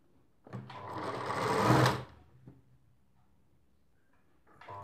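A sewing machine stitches a side seam on Rajputi dress fabric with a pure lining. One close, rapid whirring burst of about one and a half seconds builds in loudness, then stops. Quiet follows until another start at the very end.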